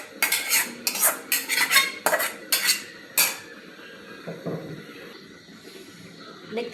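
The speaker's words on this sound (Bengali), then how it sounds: "আমি এখন ছাঁকনির মাঝে এটা দিয়ে ভালোভাবে ছেঁকে নেব।" Boiled tomatoes strained through a sieve with a spoon, sharp metallic scrapes and clinks coming in quick bursts, then softer wet stirring and rubbing near the end.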